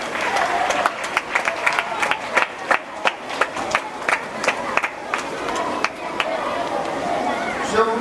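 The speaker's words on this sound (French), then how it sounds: "Encore applaudissez-vous très fort." Crowd applause at a school mental arithmetic contest, dense clapping from many hands with sharp individual claps over a murmuring audience, fairly loud and sustained.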